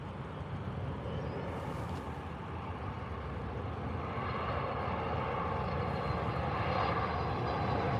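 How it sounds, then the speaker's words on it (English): A Boeing 737 MAX lands at Calgary airport, its jet engines roaring loud and steady throughout as a broad rushing drone that swells slightly toward the end, with no talking. "Here he comes. Flare 737 MAX."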